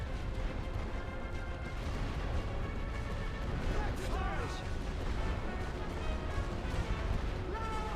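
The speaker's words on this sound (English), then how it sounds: "They have so much artillery in this battle." Dense, continuous artillery fire rumbles through a battle in the World War I strategy game The Great War: Western Front, heavy booms blending into a steady roar with scattered sharper impacts and crashes throughout.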